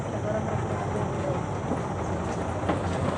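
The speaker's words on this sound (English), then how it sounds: "The bus is too noisy, that bus, because I seated at the back and the engine is at the back." Loud, steady engine rumble and road roar inside a bus, heard from the back seat right above the rear engine, a constant dense drone with faint speech mixed in.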